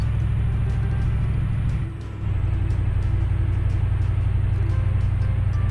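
Military truck engine in a video game, a loud steady low rumble and drone that dips briefly about two seconds in before returning to the same even roar, with no talking.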